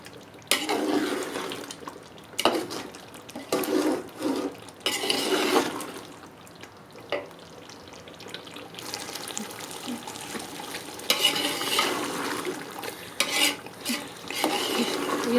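Potatoes are added and stirred into a tomato masala in a cooking pot for chicken aloo gosht. Repeated bursts of scraping and stirring come from the pot, with clatter and a watery, sizzling texture in between, and no talk.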